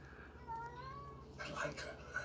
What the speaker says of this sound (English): Yeah, that's my cat there meowing.